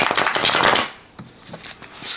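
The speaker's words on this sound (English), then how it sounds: "I don't think the holographic red gilding should make a difference on the shuffling." Tarot cards with holographic red gilding are shuffled in a loud, close riffle that dies down, then returns in softer, scattered flicks with a short burst at the end.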